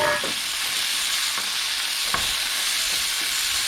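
Green beans sizzle steadily in a hot pan with garlic, a dense continuous frying hiss with a few faint stirring clicks and taps, no voices.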